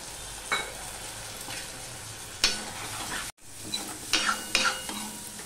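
Spice masala with turmeric and salt sizzling in oil in a pan for a fish egg dish, under repeated scraping stirs from a spoon, fairly close and moderate in level with a brief dropout midway.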